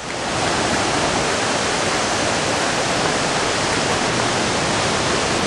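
A waterfall along a forest hiking trail at Golden Ears Park roars as a dense, loud, unbroken broadband rush, swelling in at the start and then holding steady close by, with no voices.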